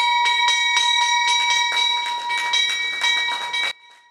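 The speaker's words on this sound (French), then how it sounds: "La visite a débuté par ce retentissement de cloches pour marquer l'ouverture des marchés boursiers." Bells ring out loudly in a rapid run of bright metallic strikes for several seconds, marking the opening of trading at a stock exchange, then stop abruptly, leaving a quiet room tone.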